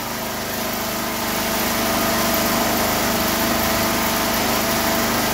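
A 48V DC automatic-start generator engine runs steadily at a constant pitch, close by and fairly loud, a continuous hum with no speech over it.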